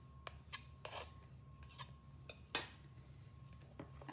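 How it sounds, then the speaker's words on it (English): Spoon scraped clean against the side of a mixing bowl of shortbread dough, several short, quiet scraping strokes with a few light clinks, one sharper knock near the middle. "Clean the spoon off again."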